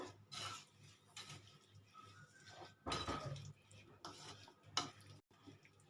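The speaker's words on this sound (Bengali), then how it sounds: "এবার আমি এটা গুড়ের সাথে ভালো করে মিক্স করে নেব।" Amla pieces being stirred with jaggery in a pan, a spoon scraping and clinking against the metal in irregular strokes, fairly quiet, with a voice talking in the background.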